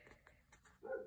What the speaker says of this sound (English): Sorry about the dogs in the outside.